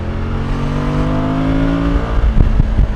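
Suzuki V-Strom 1050DE motorcycle pulling hard under acceleration in second and third gear, a loud steady engine drone with rising harmonic tone close by, rougher bursts near the end.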